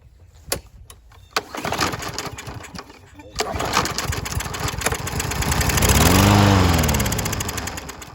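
A lawn mower engine sputters to life on starting fluid sprayed past the carburetor, with a few sharp pops and then a rising, revving roar that fades after a few seconds, close by, with someone talking over it.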